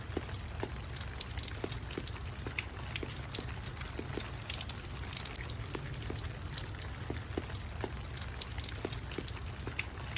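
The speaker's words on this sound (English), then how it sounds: "I've left it off to the point where now it is raining." Rain falls steadily outdoors near a house where a gutter is being installed, a constant hiss with scattered drips and taps throughout.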